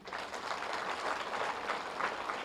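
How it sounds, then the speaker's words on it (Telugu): A seated audience at a youth motivational talk claps together in a sustained, fairly even burst of many hands, heard at moderate distance in a large hall. "గట్టిగా చప్పట్లు కొట్టండి."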